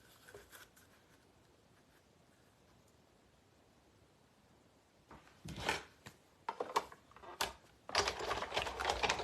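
A die cutting machine runs card through, with a steady faint hum followed by louder bursts of crunching and rolling pressure, ending in a dense grinding pass.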